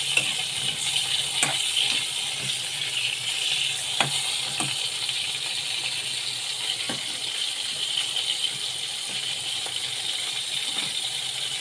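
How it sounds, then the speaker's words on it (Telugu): Sesame seeds frying in a good amount of oil for a sesame chutney, stirred back and forth; a steady hiss of sizzling with scattered light clicks and scrapes from the stirring, close and continuous with no talk. "మనకు అటు ఇటు తిప్పుతూ ఉంటే ఫ్రై అవుతూ ఉంటాయి"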